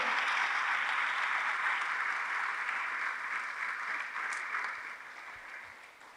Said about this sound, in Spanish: Démosle una fuerte ofrenda de palmas al bendito Señor.